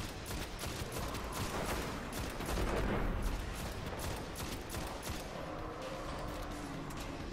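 Rapid machine gun fire in the video game Destiny during a Nightfall strike, dense bursts of gunshots continuing almost without pause, loud and close throughout.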